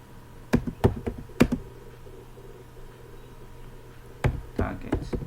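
Computer keys are struck in short bursts of sharp taps while code is written, two clusters of clicks separated by a pause over a low steady hum.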